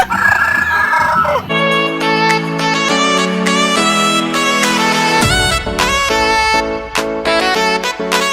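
Shamo rooster crowing on a backyard free-range farm: loud, close, drawn-out harmonic crows in succession, with other chickens calling and clucking in the background.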